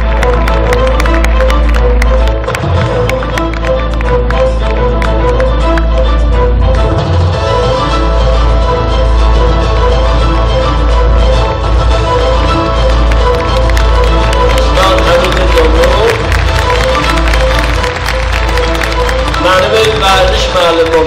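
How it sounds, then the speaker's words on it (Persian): An audience claps steadily and loudly at a sports veterans' award ceremony in Tabriz. The dense applause continues throughout, with crowd noise mixed in and a voice over a loudspeaker. "تشویق یواش"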